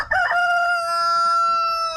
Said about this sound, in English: we've started free ranging the chickens